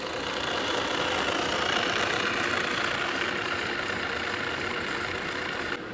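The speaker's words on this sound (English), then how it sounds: "It's doing lathe things." A 75-year-old Monarch 10EE lathe spins at about 500 RPM, giving a steady, continuous mechanical hum and whir with broad hiss, close and even throughout, with no talk.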